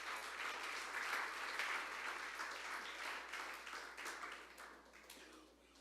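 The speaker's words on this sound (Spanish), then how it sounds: "Dale un fuerte aplauso" Applause from a church congregation, dense clapping that starts strong and gradually thins and fades toward the end, heard at moderate distance in a large room.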